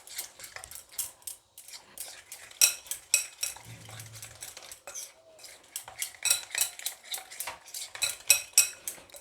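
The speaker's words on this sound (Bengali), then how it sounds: "এখন আমি এটাকে ভালো করে ফেটে নেব।" Spoon or whisk beating vermicelli cake batter with sugar paste and a pinch of salt in a bowl, rapid repeated clinks and scrapes against the bowl, close and steady, with no talk.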